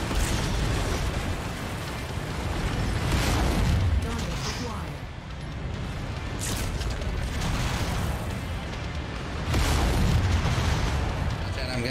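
A mech explodes in the MechWarrior 5: Mercenaries video game, with deep rumbling booms swelling and fading over several seconds amid continuous battle noise, and a voice talks over it.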